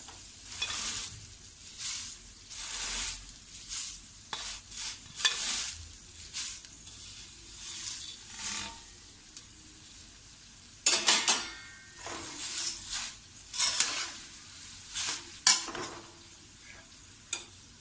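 Thin poha flakes are tipped into a pan and stirred over low gas, making a close, dry rustle with repeated bursts of scraping and light clinks of the spoon against the metal.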